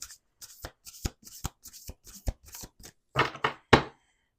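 Cards are shuffled in quick crisp riffles, a run of short flutters ending with a couple of louder bridging snaps, close and clear with no talking.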